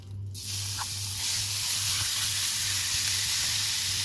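Mutton mince hits hot cooking oil over medium heat and sizzles steadily, a continuous bright hiss of frying that builds after a brief quiet start and carries on alone.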